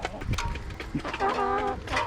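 Chickens, including roosters and hens about eight months old, cluck and murmur close by, with short throaty calls and a brief warbling note over low outdoor noise.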